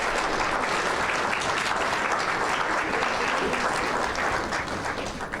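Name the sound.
audience applause at a summit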